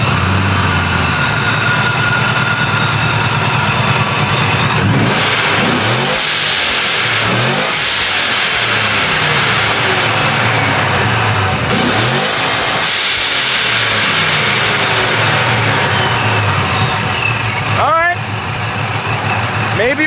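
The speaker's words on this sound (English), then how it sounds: "We're gonna start it and rev it and see if the belt flies off." Supercharged pickup truck engine revs repeatedly toward red line, loud and close, with rising and falling sweeps through the clip and a steady mechanical whine between bursts; people talk over it.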